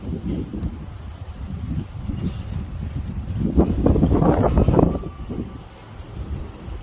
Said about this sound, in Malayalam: നല്ല മഴയും നല്ല കാറ്റും